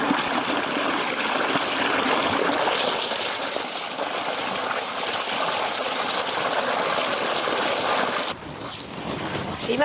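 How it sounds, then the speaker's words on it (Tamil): Water pours and splashes steadily while a clay Pongal pot is washed outdoors at a Tamil Pongal festival. The gushing runs loud and continuous, then eases briefly near the end. "பொங்கல் பானை நாங்க மண் பாண்டத்துல எடுத்துருக்கிறதுனால கழுவி எடுத்துக்கலாங்க"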